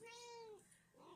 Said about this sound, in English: sorry, we got a cat